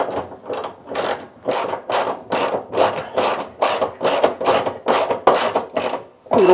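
A hand ratchet clicks in a long series of about a dozen rhythmic bursts, each a quick run of pawl clicks, as fuel tank bolts on a 1971 Chevrolet Nova are snugged up, loud and close with no voices.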